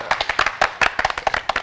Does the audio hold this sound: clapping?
yes